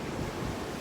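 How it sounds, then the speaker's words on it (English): Ocean surf washes onto a beach in a brief, soft, steady rush, with wind buffeting the microphone throughout and no voices. "I'm at the ocean right now on my break"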